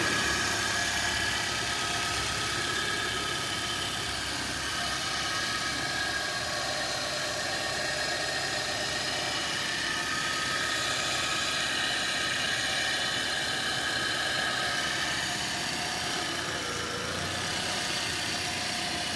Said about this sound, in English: Engine's been running maybe 3 or 4 minutes